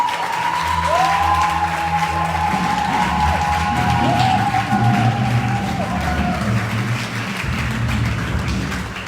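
A church congregation applauds and cheers for God, with sustained clapping and raised voices through the whole stretch, and a wavering vocal or organ-like tone rising over the crowd midway.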